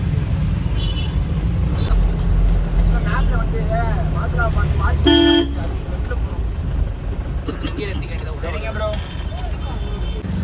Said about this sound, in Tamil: செம்ம டிராஃபிக்.